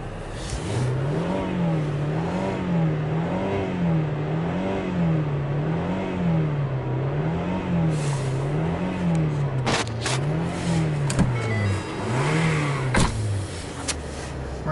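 A 2010 Mercury Milan engine idling and revving in repeated even pulses, a smooth rise-and-fall cycle about every second, close and steady, with a few clicks and knocks near the end.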